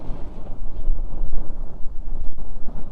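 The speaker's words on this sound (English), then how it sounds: "And you can tell the wind's blowing pretty good." Strong wind buffets the microphone outdoors during a fire starter test, a continuous loud low rumble with gusting swells and no talk.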